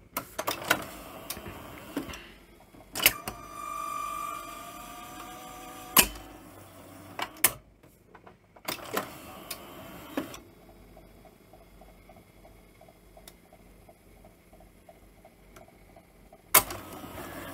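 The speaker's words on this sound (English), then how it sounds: "It sounds like there's a servo problem." A Philips N1700 VCR mechanism with a servo fault struggles: a series of sharp clunks and clicks at irregular intervals over low whirring, with a tonal motor hum in the latter half, close and with no speech.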